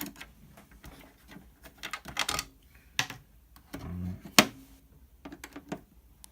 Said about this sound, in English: First step, I remove the 2 screws from the top